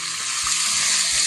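Hot oil sizzles steadily in a heated frying pan while cooking tomato kurt, a loud, even hiss with a few faint soft knocks beneath it.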